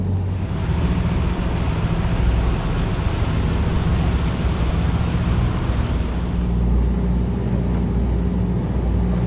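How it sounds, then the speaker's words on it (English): Waves break on a shallow reef near the Newry Islands, a steady broad wash of surf mixed with wind and boat noise, constant and fairly loud throughout. "you can see the waves breaking on it at the moment"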